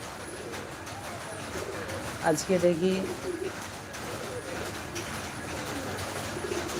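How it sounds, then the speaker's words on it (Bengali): A pigeon gives a short burst of cooing inside a pigeon house, brief and close, amid a low background hum and a person speaking. "দেখো কবুতরগুলো সব খাচ্ছে"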